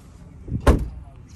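A car boot closing on a 2023 Hyundai Creta SX petrol SUV: one short, fairly loud thud at close range, with faint background noise before and after.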